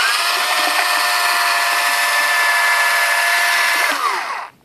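A cordless drill rigged as an outboard motor for a kayak whines loudly and steadily at high speed for several seconds, close to the microphone, then winds down and stops.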